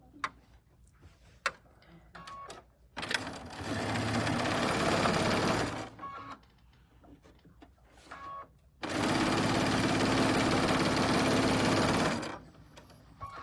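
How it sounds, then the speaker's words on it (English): A sewing machine stitches the wings onto quilt block pieces in two sustained runs of rapid, steady mechanical whirring. Between them come quieter pauses with clicks and fabric handling. "Okay, so now we're gonna sew these."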